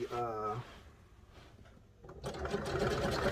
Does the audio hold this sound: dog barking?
no